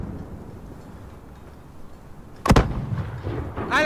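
Mortar fire from an enemy mortar team in Modern Warfare 2019: after a low ambient rumble, one sharp loud blast with a rumbling tail, followed by further distant thumps.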